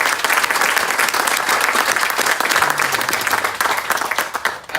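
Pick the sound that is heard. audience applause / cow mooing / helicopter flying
audience applause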